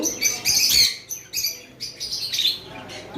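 Pet parrots chirp and squawk in sharp, shrill bursts close by, several calls in quick succession with short pauses between.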